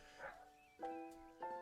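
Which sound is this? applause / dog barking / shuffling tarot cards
dog barking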